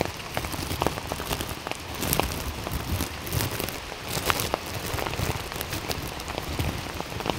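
Steady rain pattering on a surface, dense and continuous with scattered louder drops, no talking.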